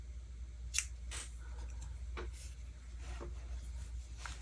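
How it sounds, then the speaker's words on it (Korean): A few quiet, sharp snips as scissors cut crochet yarn, with separate clicks spread over a low steady hum, close and soft, with no speech. "실 잘라주세요"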